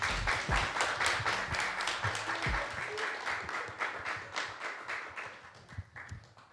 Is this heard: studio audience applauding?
yes